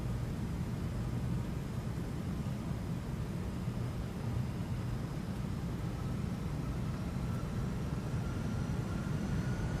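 A Boeing 737 Classic airliner taxiing in the X-Plane 12 flight simulator, a steady, even engine rumble and broadband roar with a faint whine, unchanging throughout.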